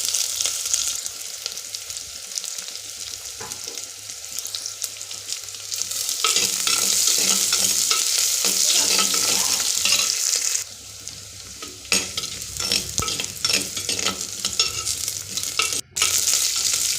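Onion sautéing with crackling cumin seeds in a pan for a lentil-free sambar, a steady loud sizzle with scraping stir strokes throughout, briefly quieter midway before the frying surges again.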